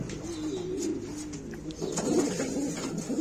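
Pigeons coo steadily in a breeding loft, with a newly paired cock bird settling in. Low, rolling coos repeat throughout at close range, loud and continuous, with no talking.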